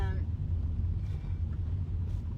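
A car travels over an untarmacked road, producing a continuous low rumble and rattling road noise with a faint wind wash over the top.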